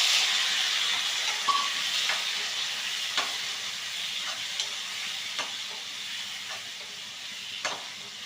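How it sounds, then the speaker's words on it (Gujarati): Potatoes and peas hit hot oil with popped mustard seeds and green chili, giving a continuous moderate hiss of frying with a few soft clicks of a spoon, no voices. "રાઈ તતડી ગઈ છે હવે શાક નાખીએ"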